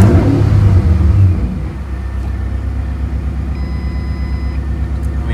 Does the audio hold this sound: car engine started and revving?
yes